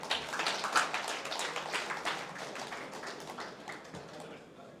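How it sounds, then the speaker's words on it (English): Applause at a React developer meetup in Chennai, moderate clapping from the audience, fairly distant and fading out over a few seconds, with some voices underneath. "Guys, let's give a round of applause to Vilva."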